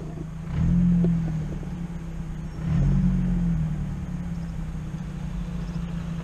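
Close by, a UAZ engine runs with a steady low hum, with two swells of revving partway through and a constant rumble between them. Nobody speaks.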